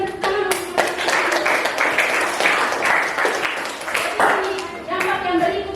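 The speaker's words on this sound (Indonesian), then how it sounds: "Berikan tepuk tangan." A classroom of students clapping together in a sustained round of applause, close and lively, with a few voices calling out near the start and end.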